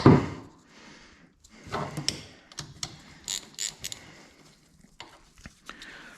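Bolts are snugged up with a hand ratchet, giving short bursts of close, dry clicking with metallic knocks between them, no talking over it.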